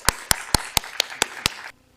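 Evenly spaced rhythmic clapping at a church prayer meeting, seven sharp claps in a steady beat that then stop abruptly into near silence.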